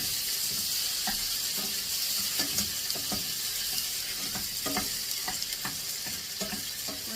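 Squid stir-fried in a pan with already-fried curry paste, sizzling and crackling steadily with scattered clinks and scrapes of a spatula stirring, close up, no talking.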